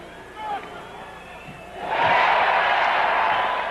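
A Clippers basketball arena crowd erupts into a loud, sustained roar and cheer after a free throw, rising suddenly partway through over faint talk that comes first.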